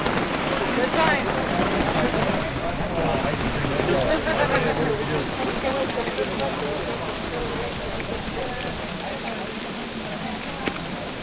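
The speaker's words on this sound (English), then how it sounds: "The rain is not keeping people inside." Rain falls outdoors in Michigan in cold weather, giving a steady patter and hiss on surfaces throughout, fairly loud and close, while people talk in the background.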